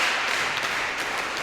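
Crowd applauding inside Svetoshny Arena at a volleyball match, a dense steady wash of many hands clapping throughout, fairly loud and continuous.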